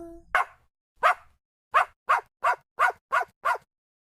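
A dog barks in a run of eight sharp, close barks, spaced unevenly at first and then quickening into a steady rhythm, with no other sound between them.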